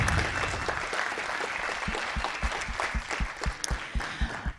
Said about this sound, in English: Please give our presenters a round of applause.